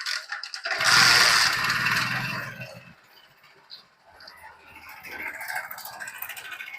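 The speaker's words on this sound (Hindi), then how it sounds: "दोस्तों इस बाइक की टाइमिंग चैन प्रॉब्लम कर रही है" A Hero Splendor motorbike engine with a noisy, faulty timing chain revs up loudly at close range with a harsh rattling clatter, then drops back to a rough, uneven idle that keeps chattering.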